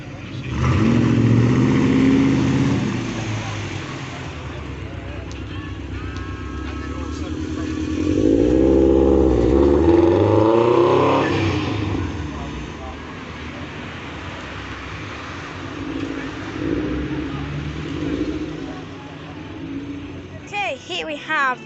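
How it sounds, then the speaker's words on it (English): A blue Audi R8 pulls away from a classic car meet at the Griffin's Head in Papplewick, giving two loud engine revving bursts before fading into quieter roadway noise, while someone talks throughout. "Here we have the blue Audi R8, and this is unfortunately going to be the final departure of the night"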